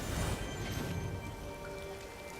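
Heavy rain in the Disney Dreamlight Valley video game, a soft continuous hiss of falling drops with a slightly louder rumble at the start, steady and without voices.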